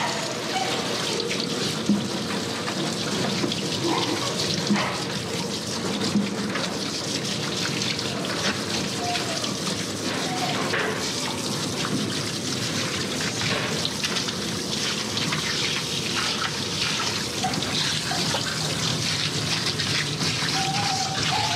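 Steady running water pours over a farm dog during a rinse after a shave-down, a close continuous splashing wash with no pauses, like a tap or shower sprayer running throughout.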